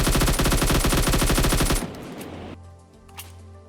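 Rapid automatic rifle fire from an AKM in the PUBG battle royale game, a dense loud burst of shots for nearly two seconds, then a fading tail with a lone faint report.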